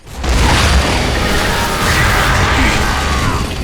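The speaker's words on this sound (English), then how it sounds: "the digger, which fires savage locusts that travel under the ground and then pop out and explode" A digger weapon's locust rounds in Gears of War 3 tunnel up and blow apart, a loud booming blast followed by a long rumbling, crackling roar of debris that stays heavy to the end.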